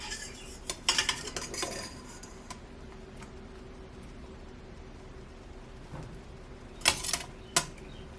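Soft steamed cauliflower is scooped out of an Aroma pot. Faint metal clinks and scrapes come in a short cluster near the start and again near the end, with quiet near-silence between them.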